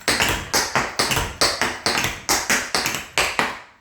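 Crisp, rapid tap-shoe strikes in quick clustered bursts of cramp rolls, a steady rolling pattern of heel and toe hits played alone and up close.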